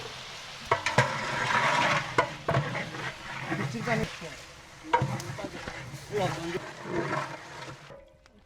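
Ginger paste and fried onions sizzle in a large pot while tehari is cooked for a big iftar, a frying hiss broken by scraping stirs, under ongoing talk.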